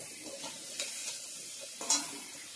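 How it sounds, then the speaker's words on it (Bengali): Eggplant slices frying in a pan, a soft, steady sizzle with a couple of louder scraping stirs, close up and alone. "বেগুন ভাজাটাও বসিয়ে দিচ্ছি"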